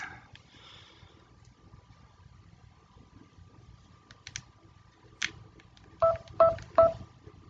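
A phone keypad beeps as it is set to silent: a few faint clicks and taps, then three short electronic tones in quick succession near the end, close and alone without talk.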